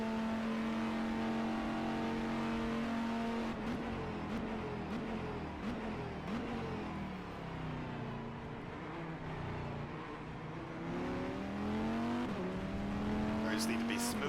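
Race car engine in the rFactor 2 sim racing game during a league race, a steady high-pitched engine whine that drops and rises through gear changes and braking, alone without talk.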